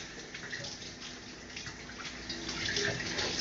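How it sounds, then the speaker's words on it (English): Running tap water streams steadily as fingers are rinsed under it, a continuous close splashing hiss that swells slightly louder toward the end, with no talking. "gotta wash whatever's left off my fingers so that I can actually hold stuff"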